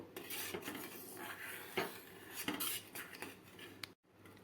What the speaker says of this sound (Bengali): এটাকে আমি এখন একদম লো ফ্লেমে নাড়তে থাকবো